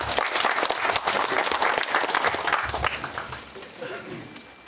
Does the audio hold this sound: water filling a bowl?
no